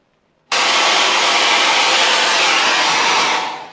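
A hair dryer blows on a watercolour painting, switching on abruptly and loudly after a brief silence and then running as a steady close airy roar before it begins to wind down.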